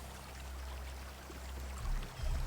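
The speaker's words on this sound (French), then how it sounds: "On entend le petit ruisseau." A small stream flowing in the video game Sengoku Dynasty, a steady soft babbling rush of water with a low rumble underneath, heard alone and fairly close.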